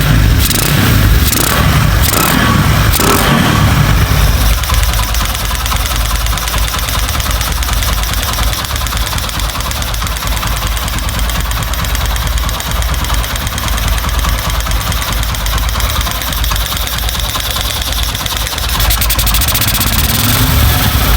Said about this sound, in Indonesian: Seperti biasa PWK pasti berisik ya bro, ngetek capnya ya bro, tapi stasioner aman, langsam, mantap bro.